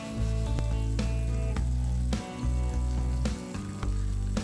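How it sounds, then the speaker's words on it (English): Pomfret fish shallow frying in hot oil in a pan, a loud steady sizzle with crackling pops and occasional louder spits, close up and continuous. "Once the oil is hot, we will place the pomfret in the pan and shallow fry it for approximately 7 to 8 minutes on each side."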